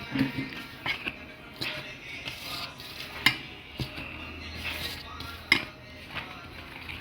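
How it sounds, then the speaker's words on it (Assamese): A spoon scrapes and clinks against a bowl while pizza dough ingredients with baking powder are mixed at home, a steady soft rubbing with sharp clinks recurring every second or so, close and fairly quiet. "আৰু এতিয়া এইখিনি মই ভালদৰে মিলাই ল'ম।"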